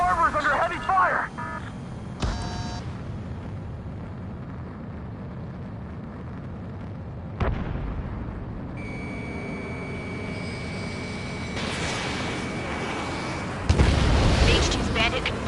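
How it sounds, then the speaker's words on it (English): Combat game battle over a harbor under heavy fire: booming explosions and artillery blasts strike at intervals over a continuous roar, with a sharp burst near the middle and a heavier one toward the end, while voices talk over the din. "The harbor's under heavy fire!"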